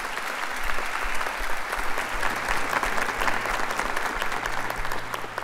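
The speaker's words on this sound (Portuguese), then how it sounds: "Pode aplaudir com força agora." A congregation applauds loudly during a Catholic Mass homily, with thick, sustained clapping filling the church for over five seconds and a faint low hum beneath it.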